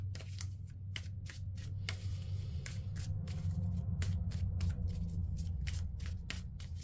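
Tarot cards shuffled by hand in a steady run of quick riffling bursts, close and fairly loud over a constant low hum, with no talking.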